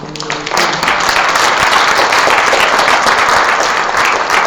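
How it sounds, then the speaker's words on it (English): Loud, sustained applause from an audience at a women's empowerment summit panel fills the room, with dense clapping that starts abruptly after a brief moment and holds steady to the end. "A round of applause to the assembly."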